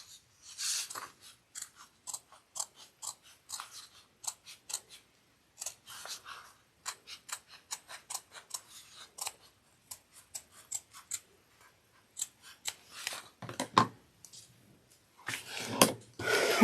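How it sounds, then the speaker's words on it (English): Duckbill scissors trim the exterior fabric piece of a fold-over cross-body bag, making a steady run of crisp, close snips, sometimes in quick clusters and sometimes spaced apart, with no talking. "Duckbill scissors would be incredibly helpful at this time."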